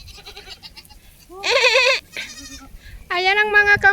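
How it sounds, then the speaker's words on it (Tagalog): Goats bleat in several loud, wavering calls close by, one after another with short gaps between them. "Ayan ang mga kambing guys"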